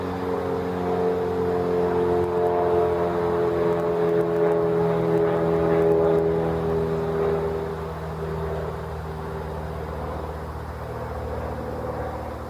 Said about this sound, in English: small municipal airport here which has some air traffic, small planes taking off, landing